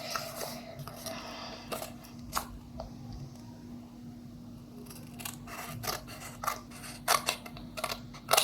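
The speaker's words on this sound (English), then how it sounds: "Now should cut along these lines till here for all the sheets" Scissors cut through paper sheets during a mini paper cup craft, giving repeated close snips and crisp slicing strokes at an uneven pace over a quiet room.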